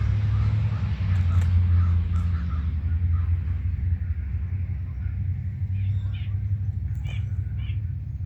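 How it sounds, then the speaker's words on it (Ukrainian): A continuous low traffic rumble of cars passing at a distance on an autumn morning near a golf club, with faint bird calls scattered above it. "Ну, машини їздять, звичайно"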